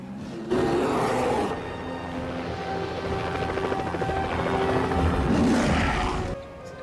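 A helicopter's rotor thrums and whines loudly, swelling as it lifts off, with a roaring rush building and then easing near the end; a helicopter takeoff in the 1999 film Komodo.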